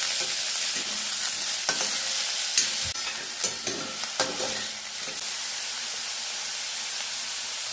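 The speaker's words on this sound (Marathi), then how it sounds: "लसूण चांगलं लाल झाल्यावर त्यात कांदा टाकून छान परतून घेऊया" Onions sautéing in hot oil over a garlic tempering in a kadhai while cooking radish bhaji with dried shrimp, a steady broadband sizzle with scraping stirs and several sharp spatula clacks in the middle, no voices.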